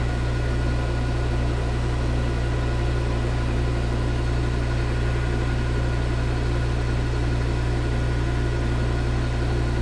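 A metal lathe turning at about 650 RPM while cutting an internal metric thread hums in a steady, even drone with a faint mechanical whine, close and continuous, with no talk.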